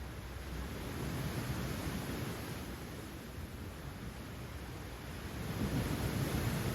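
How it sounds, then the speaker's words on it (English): Ocean waves wash in a soft, continuous rush of broad noise, quiet and steady with a gentle swell toward the end, heard alone without voices. "Listen to the sound of the ocean."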